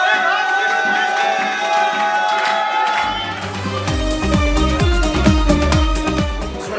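Guests at an Armenian wedding cheer and clap as they welcome the newlyweds: a loud, busy crowd roar that gives way partway through to lively music with a steady beat.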